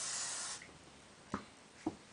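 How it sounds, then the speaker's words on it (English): A continuous hiss of hairspray misted onto hair during curling, lasting about half a second, then two short soft bumps as a can or clip is handled nearby. "you want to spray that with hairspray."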